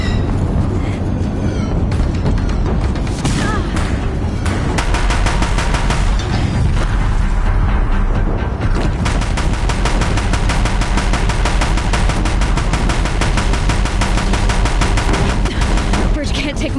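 Deathbringers firing on a bridge in a video game battle, loud dense bursts of rapid gunfire and heavy shots crackling continuously for the whole stretch, close and relentless.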